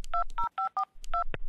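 Telephone keypad tones enter an access code for an employee time-clock phone system: six short DTMF beeps in an even sequence, clean and close, with no talking.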